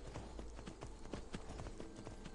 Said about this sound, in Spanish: Vamos a alejar al caballo,